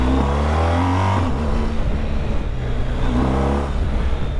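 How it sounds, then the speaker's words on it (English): A BMW GS motorcycle with a Jekill and Hyde Nomad exhaust revs up and down, its deep engine note rising and falling loudly and close by, with no talking. "you can just hear the whole engine note change"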